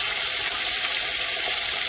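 Fish fries in a pan with a soft, continuous sizzle and hiss, close and steady over a short span, no voices.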